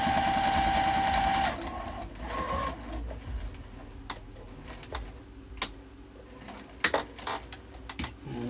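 Sewing machine stitching up the side of a fabric wallet made from fat quarter cotton, a fast steady whirring run for about a second and a half, then quieter handling clicks and taps of fabric and machine parts.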